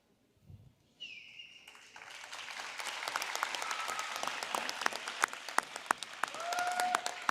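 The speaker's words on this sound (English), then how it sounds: "ask them to stand for a big round of applause" An audience at a junior high awards ceremony at La Junta Junior/Senior High School applauds its teachers. The clapping starts after a brief pause and swells into a dense, sustained round that lasts several seconds with no talk over it.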